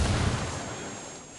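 A frag grenade detonates in Ghost Recon Wildlands: one heavy, muffled boom that rolls off into a fading low rumble and hiss.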